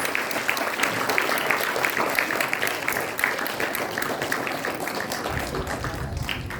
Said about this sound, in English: Keep the claps coming